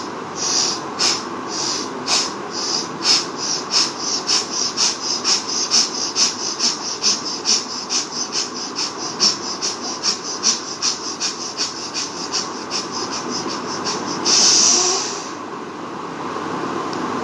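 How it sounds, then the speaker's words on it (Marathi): Alternate nostril breathing, drawing air through the left nostril and pushing it out the right, heard as close, soft rhythmic nasal airflow with repeated sniffing pulses and a stronger exhale near the end. "you'll be inhaling from the left nostril and you'll be exhaling from the right nostril"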